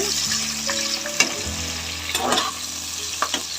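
Onions fry in oil in a pan for soya chunks biryani, a steady sizzle with occasional stirring scrapes and clinks close by.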